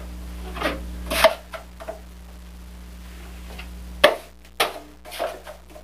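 Joint compound is troweled in a heavy coat over drywall and tape, giving a few short scraping strokes and taps spread through a quiet stretch with a steady low hum behind.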